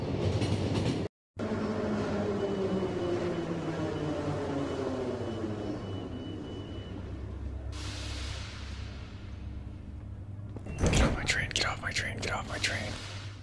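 A train rolling along in the survival game The Final Station, a steady low rumble with rhythmic rail clatter, interrupted by a brief dropout and a burst of sharper clanking near the end.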